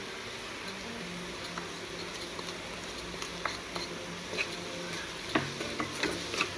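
Tomatoes with turmeric, red chilli powder, garam masala and salt saute in a pan with a faint, quiet sizzle, broken by light scattered taps and clicks of stirring that grow a little more frequent toward the end.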